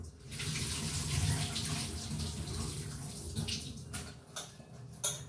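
Tap water runs steadily while baby feeding bottles are washed under it, a close, continuous splashing flow with a few light knocks and clinks toward the end.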